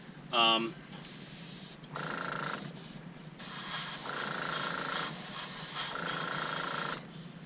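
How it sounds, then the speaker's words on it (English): A steady airbrush hiss from an air compressor spraying over-thinned paint on a Tamiya 1/16 RC M551 Sheridan tank model runs through most of the clip, broken by short gaps, with a brief faint tonal chirp near the start. "I'm sorry about the airbrush noise, the compressor."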